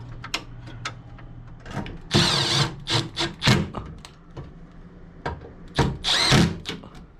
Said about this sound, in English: And put the other screws in.